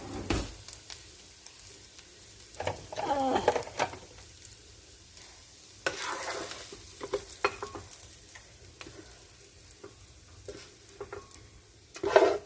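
Sausage with onions and peppers cooks in a pan on reduced heat, giving a steady soft sizzle with occasional stirring scrapes and clatters, close by and alone with no talk.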